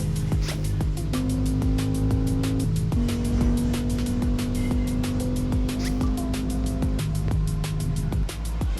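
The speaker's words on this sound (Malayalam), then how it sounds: "സൗണ്ട് കേൾക്കണം നിങ്ങൾക്ക് വണ്ടിയുടെ." A car engine in the Autobahn racing game holds a steady droning tone that steps up and down with gear changes, with sharp clicks scattered throughout.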